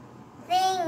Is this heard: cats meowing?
yes